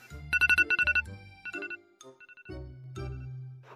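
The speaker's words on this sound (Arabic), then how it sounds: "طفي تليفونك يا حرمي" A mobile phone ringtone plays loudly nearby as a melodic electronic tune with rapid repeated beeping notes, then phrases of tones that continue through the short stretch without any talk.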